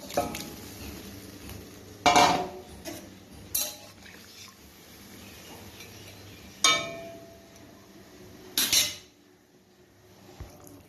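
Rohu fish pieces going into a pot for curry: a few sharp metallic clanks and scrapes of utensils against the pot, spaced apart over a quiet kitchen background.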